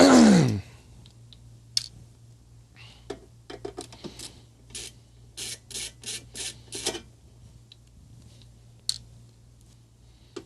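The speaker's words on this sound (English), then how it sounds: "I just have to remove these 3 screws." Screws are worked out of an Aleratec Auto Publisher LS CD changer, heard as scattered short scraping and clicking bursts, close but light, over a steady low hum after a loud opening noise.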